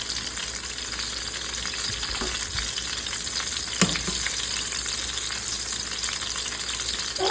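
Crispy chicken schnitzel browns in a pan, a continuous close sizzle with a few quiet stirring sounds and one sharp clink midway.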